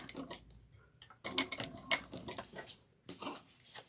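A sewing machine top stitches a pouch lining at an eighth of an inch, giving quiet rapid mechanical ticking in short bursts with brief pauses between runs.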